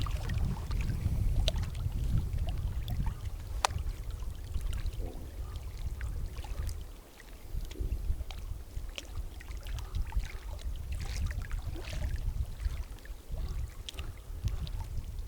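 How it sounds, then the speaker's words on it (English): Gentle freshwater waves lap steadily against rocks at a lakeshore, a continuous soft washing and splashing with small bursts, close by and alone without voices. "you can listen to these gentle freshwater waves up against the rocks"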